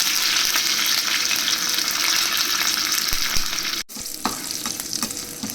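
Curry leaves, red chilies and chopped garlic crackle in hot oil as a tempering for gongura chana dal, a steady close sizzle that dips briefly near the end before resuming.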